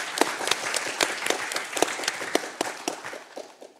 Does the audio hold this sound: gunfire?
no